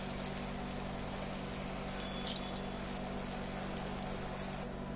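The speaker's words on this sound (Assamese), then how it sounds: "লোতে পনীৰৰ কোপ্তাকেইটা ভাজি লম" Paneer koftas fry in hot oil over a low gas flame, giving a steady, even sizzle and bubbling that runs unbroken throughout with no voices.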